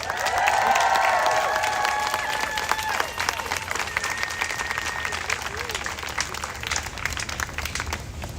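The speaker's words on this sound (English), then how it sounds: "Can you please give a round of applause for Tara, please?" Marchers at a pro-Palestine protest in Washington, DC applaud and cheer for a speaker, a continuous wash of crowd clapping with whoops and shouts rising early and staying steady throughout.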